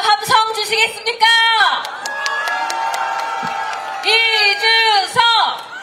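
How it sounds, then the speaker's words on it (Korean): At a presidential campaign rally with students, a crowd cheers and claps, with sustained shouts rising and falling around a loud amplified voice. "이준석 후보에게 이제부터 더욱더 힘을 내서 끝까지 함께 해달라고 큰 박수와 함성 주시겠습니까?"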